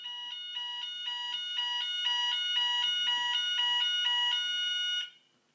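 A steady electronic alarm tone sounds without a break for about five seconds, loud and unwavering, then cuts off abruptly, with no talking.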